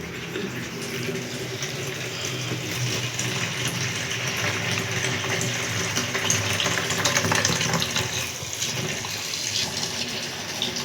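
Water runs steadily from a tap in a continuous gush, with a faint low hum underneath.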